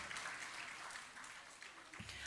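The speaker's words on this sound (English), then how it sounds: "A big round of applause for Hassan Sabrin Rahman." Applause from the audience at a national-level debate competition at Cotton University, greeting the winning speaker with a continuous, moderately faint spread of hand clapping that stays level throughout.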